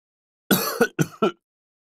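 One person coughs and clears their throat in a quiet indoor space, giving four short, close bursts: a longer rasping cough, then three quicker throat-clearing hacks.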